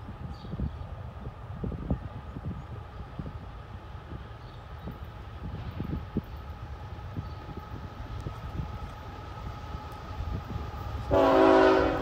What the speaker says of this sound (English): You have a CSX Ballast train